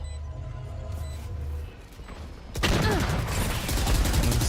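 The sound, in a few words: gunshots in an esports match, from a video game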